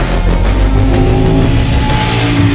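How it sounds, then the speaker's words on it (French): A CFMOTO 800MT trail motorcycle with an LC8C-derived twin engine revs loudly and steadily up close, a dense continuous growl with no talking. "un petit moteur assez sympathique, assez vrombissant sur les rapports inférieurs"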